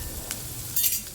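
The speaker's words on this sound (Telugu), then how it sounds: "ఉప్మాలో ఉల్లిగడ్డ మగ్గనివ్వండి, మంచి టేస్ట్ వస్తుంది" Chopped onions softening in a pan for wheat rava upma, a soft steady sizzle close by with a couple of brief clinks of a spoon against the pan.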